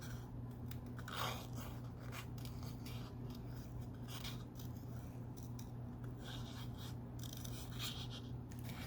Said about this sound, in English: notice that I'm turning the cardstock and not my scissors